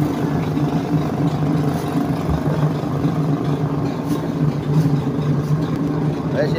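Small fishing boats motor out to sea, their engines giving a steady droning hum and putter that carries throughout, with someone talking over the sound.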